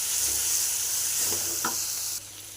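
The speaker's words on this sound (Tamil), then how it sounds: "வெங்காயம் நல்லா ஃப்ரை ஆகணும்" Onions fry in a pan with a constant close sizzle and a few soft stirring scrapes, no talking, the sound dropping slightly at the end.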